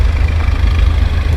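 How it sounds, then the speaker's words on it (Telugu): Two tractor engines driving dewatering pumps at a construction site by the high court iconic towers, a loud, steady low idling rumble filling the whole stretch with no talk. "ఇక్కడైతే 2 ట్రాక్టర్ మిషన్ల ద్వారా మాత్రమే డివాటరింగ్ వర్క్స్ జరుగుతున్నాయి."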